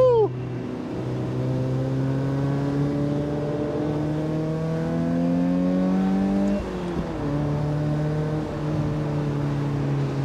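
Mazda Miata engine accelerating on the Tail of the Dragon road, revving up through rising pitches with a gear change partway, heard from inside the car, steady and moderately loud.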